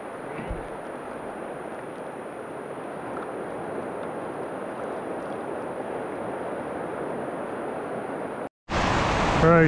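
Waves breaking close on a UK beach shore while shore fishing in the rain, a steady broadband wash of surf rolling on continuously and loud, then cut by a short gap and a louder burst.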